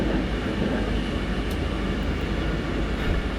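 A diesel train with an N-Wagen cab car rolls along the Hamburg–Lübeck line in Train Sim Germany, a dense, continuous rumble of wheels and engine with faint clicks, steady and loud throughout, without speech.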